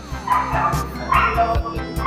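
A large Cane Corso gives a rapid series of deep barks and yips close by, overlapping with whimpers and other dogs' noises in a lively gathering of big breeds.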